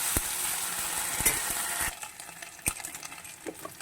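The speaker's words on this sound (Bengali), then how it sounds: "এক চামচ আদা রসুনের পেস্ট এইটাকেও আমি সাত সেকেন্ডের মতন ভেজে নেব" Ginger-garlic paste sizzling with onions in a hot pan, a loud steady crackle for the first half that drops sharply quieter, with scattered utensil clicks and stirring scrapes.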